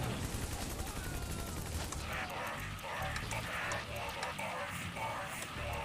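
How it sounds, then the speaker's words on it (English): Machine-gun fire from an MG squad in the mobile strategy game C&C Rivals comes as dense, steady rattling bursts over a constant wash of battle noise, with a voice talking over it. "Alright, let's get this MG set up."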